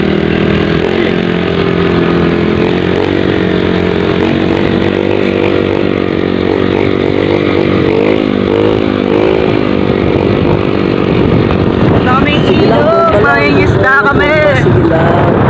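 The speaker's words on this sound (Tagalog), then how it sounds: "Pero na nga guys, nakasakay na kami sa motor." Motorcycle being ridden on the way to a river fishing trip, a loud, steady buzzing engine drone throughout with slight pitch wavering, and people talking over it near the end.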